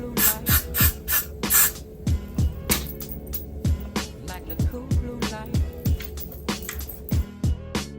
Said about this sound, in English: So I'm gonna shake, spray, and then blow dry.